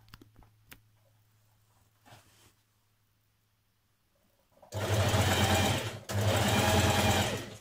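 Sewing machine stitching a shirt yoke on a ladies' shirt, loud and close in two bursts with a brief pause between, after several seconds of quiet handling sounds and a low hum.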